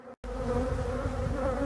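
A dense swarm of honey bees buzzes around an opened hive during a honey harvest in Brittany, a continuous close drone after a brief gap. There is no talking.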